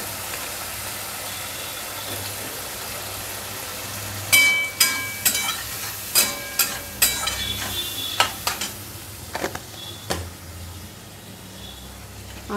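Spices with turmeric and whole green chillies sauté in a pan under a low steady hum, with a burst of about a dozen close stirring clacks and scrapes partway through.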